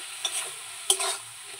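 Pangas fish frying in spices in a pan, a soft steady sizzle broken by two sharp scraping stirs, quiet and close, with no voices.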